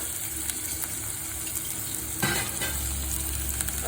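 Onions sautéing in a pan for a prawn theeyal, with a steady sizzle and a brief burst of stirring partway through, close and clear with no talk.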